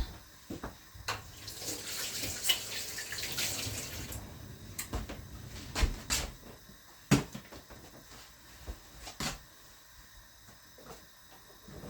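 Water runs from a kitchen tap while hands are rinsed during potato salad preparation, a hissing stream in the first few seconds, then intermittent splashes, clinks and knocks nearby.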